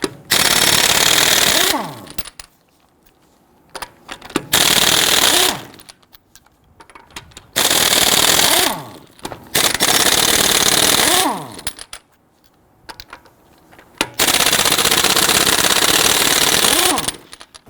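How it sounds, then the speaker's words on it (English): A power tool fitted with a 19mm socket removes lug nuts from the front wheel of a 2011-2019 Ford Explorer: loud, close bursts of rapid rattling hammering, each a couple of seconds long, separated by short quiet gaps. "Using a 19mm socket, loosen and remove the lug nuts."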